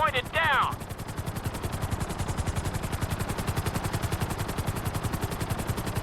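A helicopter in the GTA 5 video game thrums with a loud, rapid, steady rotor chop close by, after a brief whistling game tone at the start.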